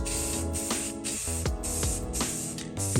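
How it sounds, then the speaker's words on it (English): Rust-Oleum filler primer sprayed from an aerosol can onto a 3D-printed model: close, loud hissing bursts in quick succession, about five short sprays separated by brief gaps. "So now that you have hit your model with some Rust-Oleum filler primer"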